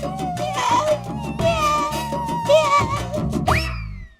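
A cat meows several times in long, wavering cries, close and fairly loud, with some background noise and a rising squeal at the end.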